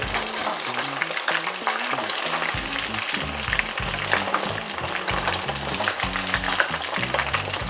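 Chicken pakoda deep-frying in hot oil over a high flame, a steady loud sizzle and bubbling with irregular crackles throughout, no voices.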